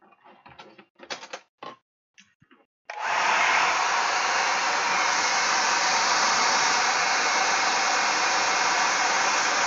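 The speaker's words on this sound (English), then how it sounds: "maybe we'll just give it a blast with a hairdryer." A hairdryer blasts air onto wet paint on a hobby craft model of a Rohan homestead, starting abruptly after a few seconds of quiet handling noises and running as a loud, steady, close whoosh to the end.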